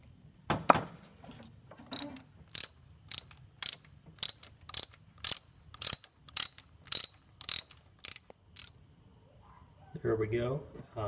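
Ratchet turning a 5/8 inch spark plug socket to remove spark plugs from a Pontiac Fiero GT engine, about a dozen sharp evenly spaced clicking strokes close up, with a brief voice at the start and end.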